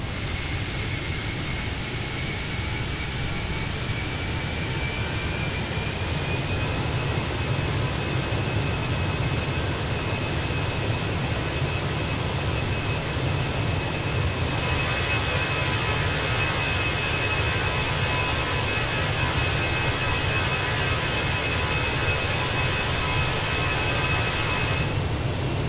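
Fenix A320 jet engines in a climb in Microsoft Flight Simulator, a loud, steady broadband roar with a faint high whine running throughout and no talking.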